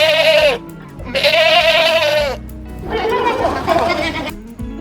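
A cartoon goat bleats in two long, wavering, nasal cries, followed by a rougher, shakier bleat, loud and close with short gaps between them.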